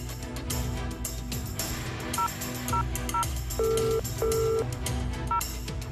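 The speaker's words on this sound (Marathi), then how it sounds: "फोन लावा वाडकर" A phone number is tapped out in a string of touch-tone beeps, some quick and some held longer, over a steady background of low hum and faint clatter.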